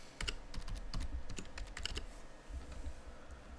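Password typed on a computer keyboard, a rapid irregular run of soft key clicks and taps, close and quiet.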